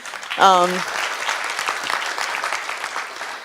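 An audience applauds steadily throughout at a prize ceremony, a dense wash of clapping, with a brief voice heard near the start.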